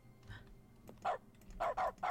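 Dog barking in The Stanley Parable's dog mode, several short barks in a quick cluster near the end with a single one earlier, fairly clear over a quiet game background.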